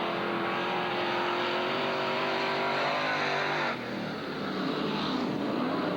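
Race cars roar around the Southern Oregon Speedway oval during a lap race, a loud, continuous engine drone with pitch shifts as cars pass, heard alone without voices.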